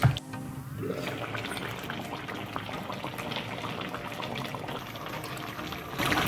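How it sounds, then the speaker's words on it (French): Potato and cabbage stew with roasted spices simmering in a pot over medium heat, a steady wet bubbling and burbling that runs evenly throughout, close and moderately loud with no talking. "Je vais donc laisser mijoter à feu moyen."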